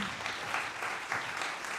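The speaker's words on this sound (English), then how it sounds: "So give a big applause to our panel, Pascal Moricera, Fernando Hernandez, and Po" An audience applauds a discussion panel at a food security event, a steady, fairly faint stretch of many hands clapping together with no voices over it.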